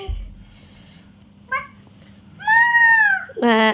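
A young child imitates a cat's meow, giving a couple of short rising mewing calls followed by a longer, louder meow, close to the microphone in a quiet room.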